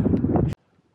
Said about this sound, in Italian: E c'è sto vento di merda.